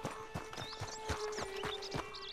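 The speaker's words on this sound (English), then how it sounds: "We got some horses. We got a horse." Steady clip-clop of horse hooves in the video game Red Dead Redemption 2, evenly spaced beats at a walking pace, fairly close, over a faint ambient hum with light chirps above.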